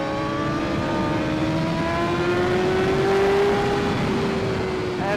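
A sportbike engine climbs steadily in pitch as the rider accelerates along the track at The Ridge Motorsports Park, a loud, continuous rising whine held close throughout with no pauses.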